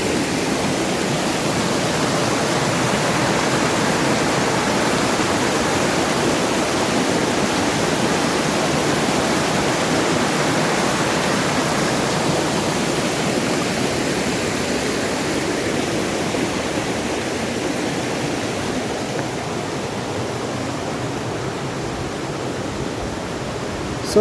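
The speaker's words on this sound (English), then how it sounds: "The water now is so loud, I'm just gonna stop speaking" Loud, steady rushing of a stream flowing through the Brazilian savanna, a dense unbroken wash of water noise close by, with no voices over it.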